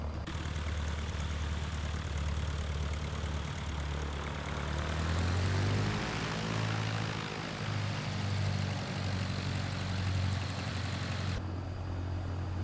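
A Cessna 150 Commuter's propeller engine runs steadily in X-Plane 12, a loud, continuous droning hum with a deep throb that swells slightly midway and holds without a break, with no talking.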